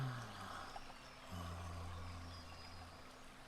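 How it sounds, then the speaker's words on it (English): A river flows continuously with a soft, steady watery rush, faint and somewhat distant, accompanied by a low droning hum that breaks off briefly and resumes. "Look at that bonny, bonny river. Just listen to those sounds."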